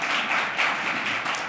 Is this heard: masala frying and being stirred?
no